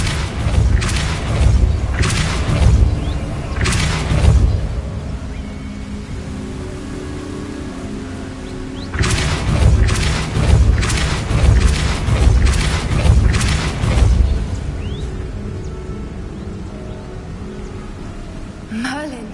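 Depulso force blasts in Hogwarts Legacy, a series of loud, broad booming thumps in two clusters separated by a quieter lull, with no speech over them.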